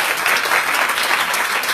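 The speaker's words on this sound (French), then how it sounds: "On applaudisse très très fort pour Florence pour tout ton travail." An audience bursts into dense, sustained applause at a talk on time and women, steady and fairly loud throughout the short stretch with no pauses.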